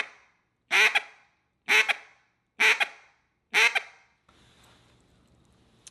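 Four evenly spaced, sharp nasal duck-call quacks in the bouncing hen style ring out loud and close, each with a quick clipped tail, followed by quiet room hiss.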